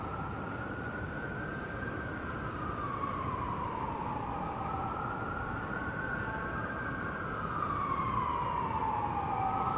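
A wailing siren rises and falls in slow sweeps over a constant low background roar, steady and moderately distant throughout, in a Minecraft recreation of New York City.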